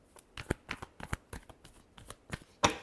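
Tarot cards are shuffled by hand in a quick series of crisp riffling flicks and slaps, close and fairly quiet, ending in a louder final snap.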